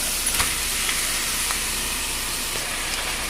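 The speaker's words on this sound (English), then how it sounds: "everything's back in the pan and it's sizzling away in the sauce" Chicken pieces sizzle in a creamy mushroom sauce in a pan, a steady close hiss with faint bubbling and occasional stirring clicks.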